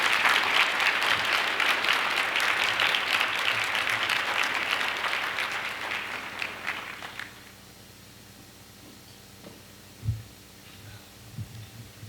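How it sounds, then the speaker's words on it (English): Luncheon guests at a scholarship recognition event applaud, a full round of clapping that fades out after about seven seconds, leaving quiet room noise and a few faint thumps. "Let's give them a round of applause"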